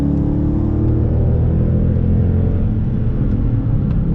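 A Dodge Charger R/T with roughly 370 horsepower rumbles loudly from inside the cabin, a deep, steady engine drone and road roar holding constant as it accelerates.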